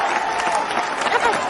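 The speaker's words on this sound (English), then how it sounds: "I got the crowd cheering out here" A crowd cheers and applauds, with dense, continuous clapping and voices at an even, loud level through the brief moment.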